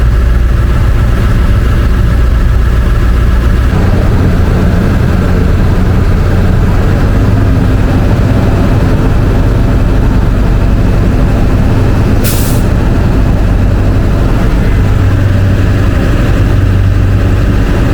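An International 444E diesel engine with a new turbo runs at a steady loud idle close by, its pitch stepping up partway through as it settles higher, with a brief hiss of air near the end.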